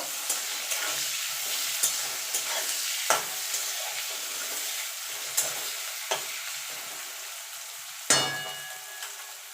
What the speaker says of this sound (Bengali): দেখুন বন্ধু পেঁয়াজটা ভাজা ভাজা হয়ে গেছে,